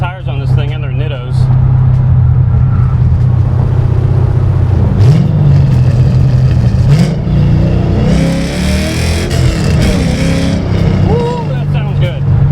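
An LS2 V8 in a Datsun 280Z on the road, roaring loudly and steadily as it accelerates, with the rumble carrying through the whole clip while someone talks over it.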